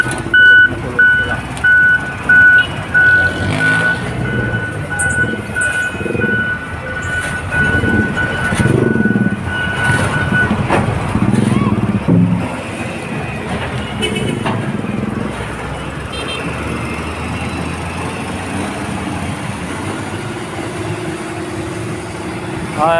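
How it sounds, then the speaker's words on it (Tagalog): A large dump truck on a Manila street cleanup sounds its reversing beeper in a regular pulsing series while the diesel engine rumbles and idles beneath, with traffic noise and someone talking over it. "ikakarga dito sa malaking dump truck na ito"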